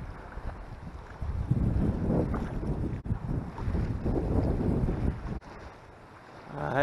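Strong wind roars and buffets the microphone while someone wades Grenada Lake, a steady low rumble that swells and dips with the gusts, with a brief lull near the end.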